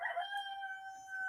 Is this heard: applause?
no